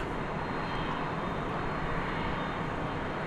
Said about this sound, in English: we've got another MD-11 headed out